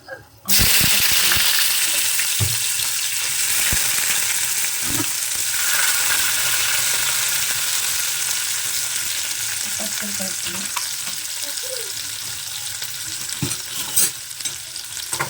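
Chicken liver frying in plenty of oil with tomato and green chili, a loud steady sizzle running the whole time with occasional stirring scrapes and clicks.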